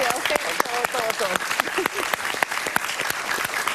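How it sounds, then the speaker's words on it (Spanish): A Venezuelan talk-show studio audience claps in a dense, steady burst of applause lasting a few seconds, loud and close, with a voice talking over it. "yo quisiera un aplauso para la sociedad civil venezolana"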